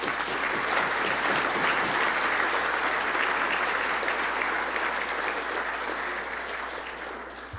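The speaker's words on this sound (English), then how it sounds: "So why don't we give everybody a round of applause here." A banquet crowd at a college football awards dinner applauds newly introduced players: a full, steady roar of many hands clapping that holds evenly, then thins and fades near the end.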